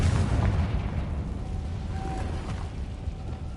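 Confringo spell blast in the video game Hogwarts Legacy, a dense, booming roar of explosive noise that stays loud and steady throughout the short moment.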